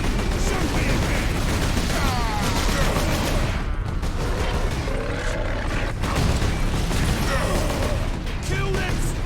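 Sustained gunfire in Warhammer 40K: Space Marine, a dense continuous barrage of automatic shots and mechanical clatter on a battlefield, with shouting voices mixed in throughout.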